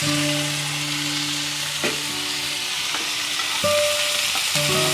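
Telagapindi leaves cooking in a pan on the stove, giving a steady, even sizzle with a couple of soft stirring clicks and no talking.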